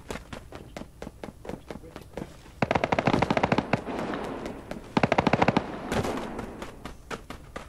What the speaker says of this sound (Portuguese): Tem tiro lá na montanha, ó.